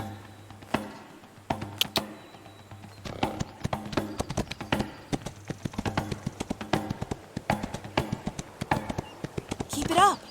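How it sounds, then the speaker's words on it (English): Hooves clip-clopping in a steady trot in the Windstorm horse-riding video game, close and continuous, with a horse whinny near the end and a voice talking over the hoofbeats. "Ride the track. Let Windstorm jump off within the green jump area"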